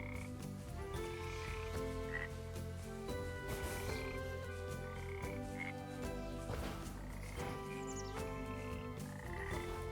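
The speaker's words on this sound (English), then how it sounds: "A dark frog" Repeated croaks from a dark frog creature in the puzzle game Potions: A Curious Tale, sounding steadily throughout over a busy layered game music backdrop, with no talking.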